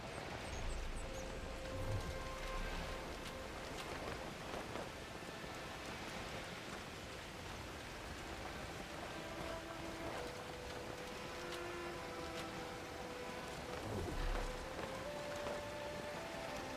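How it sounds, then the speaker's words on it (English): Heavy rain hisses steadily in Horizon Forbidden West while flying, a dense, even wash of noise with faint tones underneath, continuous and fairly soft throughout. "Rain hits hard in flight."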